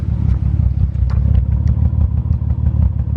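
A 1988 Nissan Skyline R31 wagon engine idles roughly on about four cylinders, a loud, close, lumpy rumble with uneven pulsing and ragged clatter, no one talking.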